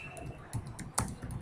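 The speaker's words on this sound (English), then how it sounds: "this is the document that I am typing and you are reading right now" Someone types on a computer keyboard while writing a document, producing a few quick, close clicks and clacks of keys in an uneven rhythm, with quiet gaps between bursts.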